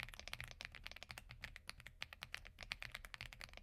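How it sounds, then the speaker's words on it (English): Rapid, steady typing on a mechanical keyboard with Reaper switches, giving a creamy, muted clack up close; dense keystrokes run continuously with no talking. "I think this is one of the creamiest sounding keyboards right out of the box."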